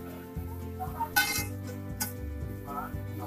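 Metal spoon clinks and scrapes against a cooking pan as golden brown fried onions are lifted out, with a few light, irregular clatters and one brighter knock, and no talking.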